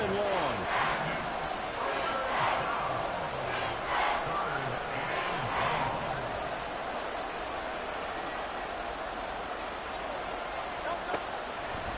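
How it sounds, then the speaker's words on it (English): An American football video game stadium crowd roars as a steady, dense wash of noise for the whole stretch, sitting beneath continuous commentator talk. "This crowd turning up the decibel level."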